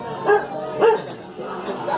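Dogs at an evening bonfire gathering give two or three short, close barks and yips, with people talking faintly nearby.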